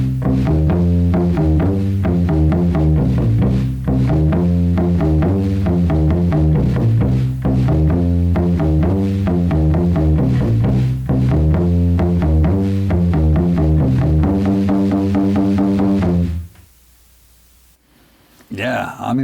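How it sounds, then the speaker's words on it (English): Hofner bass played through a Rerun bass head and captured by a roomy room mic, a steady, loud, boomy bass line running for about sixteen seconds before stopping, with a brief burst at the end. "That's my Hofner through my rerun bass head."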